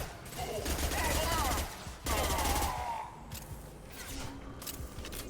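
Gunfire aimed at the player in Mass Effect 2, bursts of rapid fusillade and machine-gun fire in two dense waves, then scattered shots and footsteps, fairly quiet in the mix.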